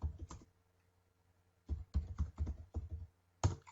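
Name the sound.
typing search keywords on a computer keyboard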